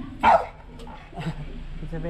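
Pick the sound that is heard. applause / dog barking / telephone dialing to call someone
dog barking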